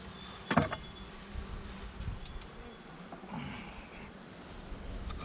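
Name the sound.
bees buzzing around an open beehive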